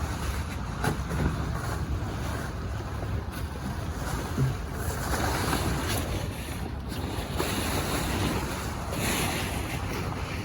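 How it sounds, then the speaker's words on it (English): Strong gusts of wind roar steadily into an outdoor microphone, making a continuous, loud rumbling buffet with brief louder puffs. The wind covers most other sound, and no one talks. "It's a bit windy today, so I'm sorry if the audio quality is trash."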